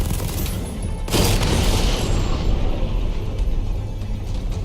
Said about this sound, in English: The bomb's payload is exploding.